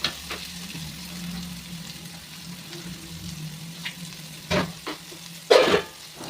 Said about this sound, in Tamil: சீரகம் போட்டதுக்கப்புறம் தக்காளி, வெங்காயம், பச்சை மிளகாய் எல்லாத்தையும் நம்ம போட்டு வதக்கிடணும்.